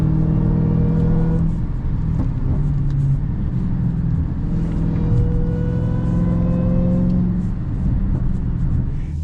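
Dodge Charger SRT Hellcat Redeye engine and exhaust heard from inside while driving, a loud continuous drone with rising rev sweeps and faint pops.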